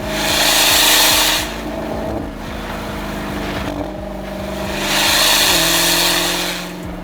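A Dodge Demon 170 on worn Mickey Thompson tires gives off a strange, loud airy whoosh that swells, drops back and swells again over a steady low mechanical drone and rubbing, with no talking.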